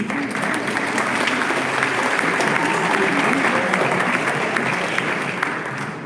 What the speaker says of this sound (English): So let's give them a round of applause, please, too.